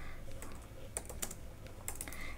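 Computer keyboard being typed on while writing React code, scattered light keystroke clicks in short irregular bursts, fairly close over a low room hum, no talking.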